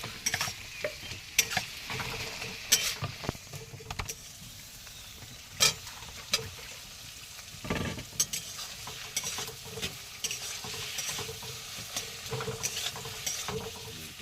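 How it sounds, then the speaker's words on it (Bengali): Ginger-garlic spice paste with lightly fried onion sizzles in a pan while it is stirred, with scattered scrapes and clinks of the spoon, cooked outdoors on the Matla river in the Sundarbans; no one speaks. "এবার কিন্তু আমরা মশলাটা কষিয়ে নেব।"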